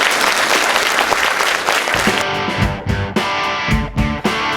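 Loud applause from a crowd, steady clapping that turns into music with strong bass thumps partway through.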